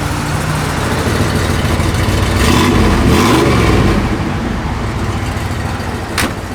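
A 1956 Chevrolet 210 engine revving with its electric exhaust cutouts open, a loud, throaty V8-style roar that swells through a rev and settles back, ending with a sharp click.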